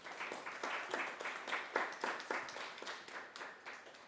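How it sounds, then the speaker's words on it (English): At a university Gavel Club speech competition, a small audience claps after a speech, the individual hand claps distinct and fairly quiet, coming in loose, uneven bursts with no talking. "Let's please give her another round of applause."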